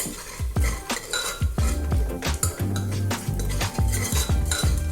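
Masala sautéing in a pan, with a spoon clanking and scraping against the metal in quick repeated strokes over a faint sizzle, close and loud with no voices.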